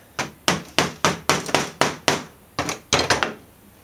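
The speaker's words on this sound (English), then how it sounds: "that's just a case of tap that down onto there" About a dozen sharp metallic taps as the wiper spindle of a Citroën 2CV windscreen wiper unit is knocked down into place, struck in a quick, slightly irregular rhythm with short gaps, close and loud.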